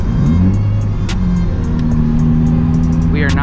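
A Nissan 350Z DE with a full HKS exhaust pulls hard in a loud, droning engine note that dips at a gear change and climbs again, with light ticking and a brief voice near the end.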